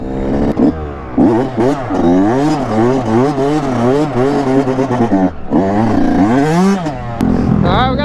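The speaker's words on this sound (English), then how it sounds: "We got homies on the little pit bikes out here." Small pit bikes and off-road motorcycles rev and buzz close by, their engine whine rising and falling in continuous wavering pitch sweeps as they ride past on a dirt lot, with a brief drop midway.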